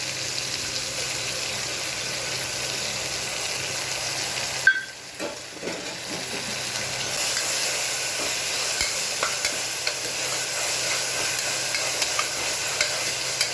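Spices frying in a pan for capsicum biryani sizzle and hiss steadily up close, with a spoon scraping and stirring through them and a brief clatter and dip partway through.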